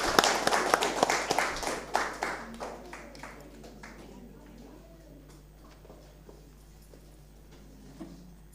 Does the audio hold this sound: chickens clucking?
no